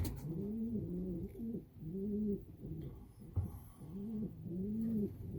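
Racing pigeon from a young bird team cooing up close, a steady series of low, rolling coos repeating in rhythmic phrases with short pauses between them, alone with no talk.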